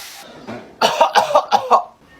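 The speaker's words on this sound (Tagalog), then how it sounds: "Inuubo ka ba? Opo, inuubo po ako." A person coughs several times in quick succession, a sharp hacking series of five or six bursts, close and loud.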